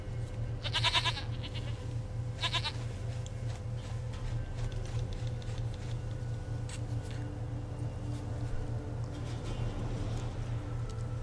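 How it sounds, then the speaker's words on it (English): Goat bleating in the video game The Witcher 3, several short wavering bleats near the start and around the two-second mark over a steady droning game soundscape and ambient hum. "Goat of mine, dearest, sweetest goat."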